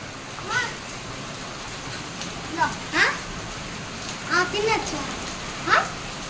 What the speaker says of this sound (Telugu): ఐస్ గడ్డలు పడుతున్నాయి పక్కన రేకుల మీద